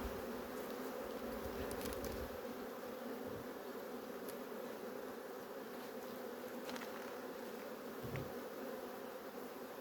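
Honey bees swarm and buzz around an open hive as honeycomb frames are lifted out, a steady dense drone close to the ear with occasional louder passes of single bees.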